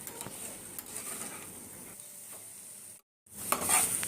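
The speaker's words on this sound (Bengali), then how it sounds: "এবার খুব ভালো করে নেড়েচেড়ে আমি পটলের গায়ে যেন মশলাটা লেগে যায় এইভাবে" Fried pointed gourd stirred into poppy seed spice paste in a pan: soft sizzling with repeated scraping and stirring strokes, a brief silent break, then louder sizzle and stirring resuming.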